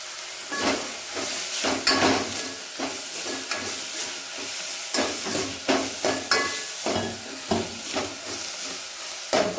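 Dal ingredients fry and sizzle in a hot pan, stirred with repeated scraping strokes that set off bursts of crackle over a steady hiss, close and fairly loud with no talk.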